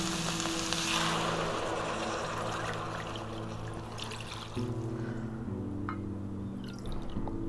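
Water poured steadily into a pot already holding ground beef and kale, a continuous close splashing pour lasting several seconds, with a low hum underneath.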